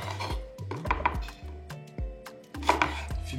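A knife chops vegetarian chili peppers on a board in a kitchen, giving a series of sharp, irregular close taps with some faint clinks of utensils and no talking.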